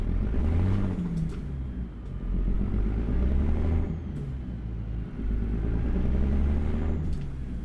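Heavy truck rumble from a Kenworth LW900 hauling a Howard side tipper triple trailer in American Truck Simulator, with brief high air-brake hisses bursting over a loud, steady engine drone.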